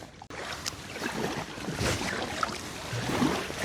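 Kayak paddle strokes on Ullswater lake in winter, soft splashing and dripping water over a breezy, wind-buffeted background, close by and fairly quiet, with no talking.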